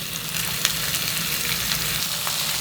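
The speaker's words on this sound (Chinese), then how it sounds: "给它小火煎一下，赶紧给它翻一面" Beef short rib frying on low heat with onion and leek for sukiyaki, giving a steady close sizzle with faint crackles and pops throughout, no talking.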